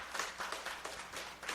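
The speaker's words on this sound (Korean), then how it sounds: "모든 식구님들에서 박수 부탁드리겠습니다" Church congregation applauding during a service, a short, faint patter of individual claps with a loose, uneven rhythm, heard from a distance.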